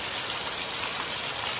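A steady, close roar of heavy rain falls in coastal Konkan, Maharashtra, thick drops hammering surfaces in an even wash of sound, with no one speaking.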